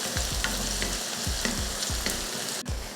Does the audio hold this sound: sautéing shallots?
yes